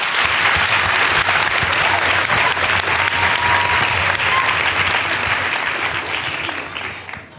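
A forum audience at the Apartheid Museum's Youth Day debate gives the panelists dense, steady applause that holds for several seconds, then tapers off at the end.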